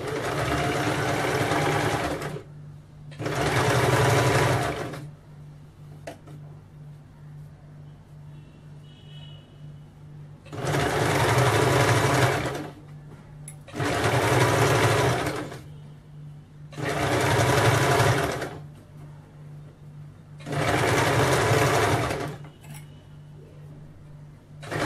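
Sewing machine stitching buckram to lining for a kameez, running in five distinct loud bursts of several seconds each, separated by quieter pauses with low background hum.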